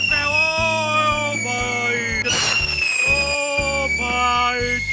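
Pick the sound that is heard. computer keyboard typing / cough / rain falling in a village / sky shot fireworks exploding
sky shot fireworks exploding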